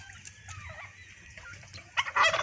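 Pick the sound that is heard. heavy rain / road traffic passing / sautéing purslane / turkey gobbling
turkey gobbling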